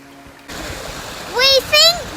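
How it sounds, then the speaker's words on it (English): A river in the Lake District at Tarn Hows rushes and splashes steadily nearby as walkers cross it on foot, with a couple of short voiced sounds over the flow. "we are now crossing the river"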